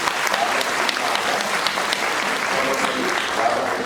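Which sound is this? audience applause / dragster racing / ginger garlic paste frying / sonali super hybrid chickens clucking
audience applause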